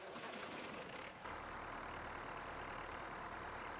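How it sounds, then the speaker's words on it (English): A Fortschritt E303 mower's engine idles in Farming Simulator 19, a steady low mechanical drone that starts up about a second in and then runs evenly and loudly, with no talking. "We'll start the engine."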